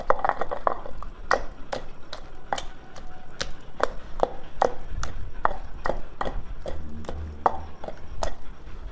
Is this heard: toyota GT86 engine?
no